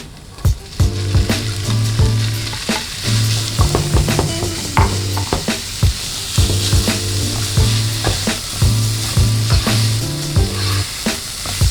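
Beef mince sizzles loudly and steadily in a hot pan with garlic for a basil eggplant stir-fry, a close, continuous crackle broken by scrapes and knocks as the meat is stirred and spread out.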